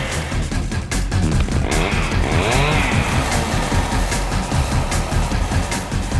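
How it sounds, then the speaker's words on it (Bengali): A recorded motorbike sound plays as a continuous, fairly loud engine roar with a brief rising whine in the middle, alone without talk. "এই বাইকের শব্দ?"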